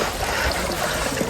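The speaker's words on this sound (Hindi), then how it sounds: "ये एक झरना आ रहा है, ग्लेशियर का पानी सीधे पिघल के आ रहा है." Glacier meltwater stream in the Niti Valley, a clear mountain brook fed directly by melting ice, rushing steadily with a dense, close-up hiss and gurgle, with no voices over it.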